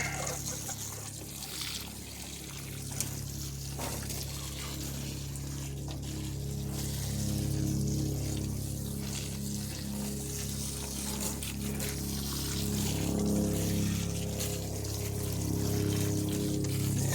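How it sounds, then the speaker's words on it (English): Water poured from a can or hose over potted Firefly petunias after transplanting and trimming, a steady close trickle and splash running unbroken for the whole stretch, with no talking. "let's do some watering"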